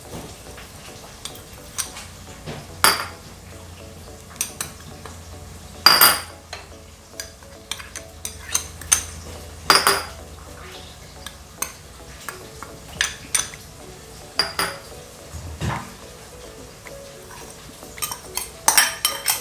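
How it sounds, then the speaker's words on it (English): Metal spoon clinks and scrapes against a pot as spices go into a fish biryani, a series of scattered light taps and stirring clatters, close and fairly quiet with no talking. "I'm going to add all the spices."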